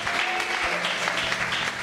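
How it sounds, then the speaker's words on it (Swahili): A church congregation claps together in a dense, continuous wash of applause, fairly loud and steady throughout, with no clear speech. "Tupigie Bwana makofi."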